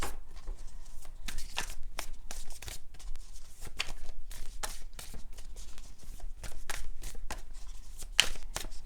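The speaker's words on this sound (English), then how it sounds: "and then I'll be done with the shuffling" Tarot or oracle cards being shuffled close up, a run of quick riffling bursts and soft flicks repeating irregularly over several seconds, fairly quiet and without talk.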